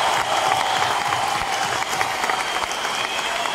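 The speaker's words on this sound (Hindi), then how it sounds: "एक जोरदार तालियां होना चाहिए सिद्धार्थ जी के लिए।" A large audience at a leadership training program in a stadium bursts into loud, sustained applause, a thick, unbroken roar of clapping from start to finish.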